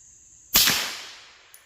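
A single sharp, loud 9mm carbine gunshot cracks at close range and rings out into a long decaying echo, followed by a faint metallic click.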